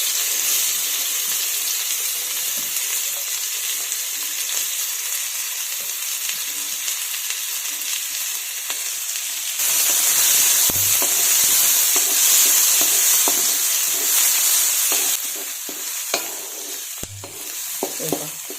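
Finely chopped onion hits hot oil already holding a teaspoon of mustard seeds and half a teaspoon of cumin, a steady sizzle that surges louder midway, with occasional stirring clinks and scrapes near the end.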